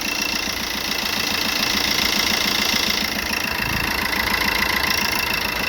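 A 1.3-litre Euro 5 car engine runs after injector repair, idling steadily with a close, even mechanical clatter and hum and no speech.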